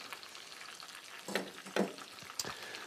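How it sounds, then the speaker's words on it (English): Chicken frying in boiling oil, a steady close crackling sizzle with a few sharper pops and bursts of spatter, no voices over it. "It's sitting here in boiling oil"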